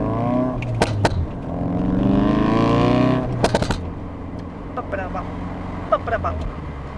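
A car exhaust revs up, holds a rising drone, then drops off on a downshift, followed by sharp pops and crackles; a voice speaks briefly over it.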